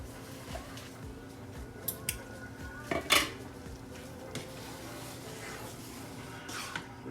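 Meat sauce is spooned into a casserole dish, with a few soft wet plops and sharp clinks of a utensil against the dish, close and quiet with gaps between.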